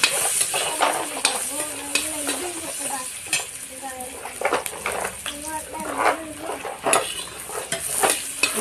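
Onions fry in a pan with a constant close sizzle and repeated spoon scrapes as they are stirred, while someone talks over the cooking.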